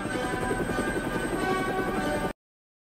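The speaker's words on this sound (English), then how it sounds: "Using a remote-controlled toy helicopter" A remote-controlled toy helicopter flies indoors with a steady high-pitched whirring buzz of its rotor and motor that holds constant for about two seconds, then cuts off abruptly.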